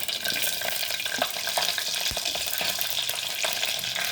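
Chilli frying in hot oil with garam masala, a steady bright crackling sizzle with scattered pops and stirring scrapes, close and continuous, with no talking.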